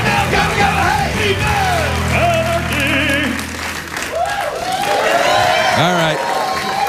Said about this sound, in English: if you start whooping and applauding for pre-taped cartoons, we're going to be here all night